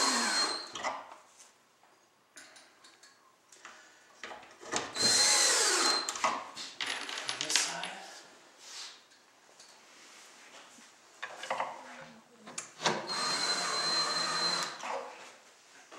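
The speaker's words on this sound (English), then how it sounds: "now we're going to put our 6 screws in again, dipping them in glue" A power drill drives glued screws into the pocket holes of a wooden Dryerpod during assembly, with several short whirring bursts separated by pauses, close and fairly loud.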